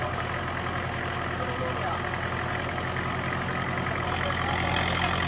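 A Puthiya Bharatham tractor engine idles steadily before ploughing a field, a continuous low throbbing chug, close and even in level, with no clear speech over it.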